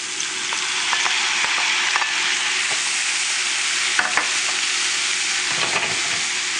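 Broccoli and other vegetables go into a pan of frying shrimp, making a loud, steady sizzle with occasional light stirring clicks and scrapes. No one speaks.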